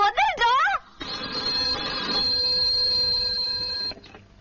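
A telephone rings with a steady, bright electronic tone lasting about three seconds before it cuts off. A voice speaks briefly just before the ring starts.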